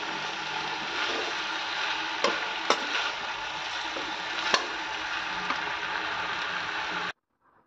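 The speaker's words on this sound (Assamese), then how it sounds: "এইফালে চব্জিখিনি দি দিলোঁ। দি এতিয়া ধুনীয়াকৈ এইখিনি ভাজিম আকৌ মই অলপ সময়।" Vegetables frying in oil in a pan, a steady dense sizzle with occasional crackles and stirring clicks, cutting off abruptly at the end.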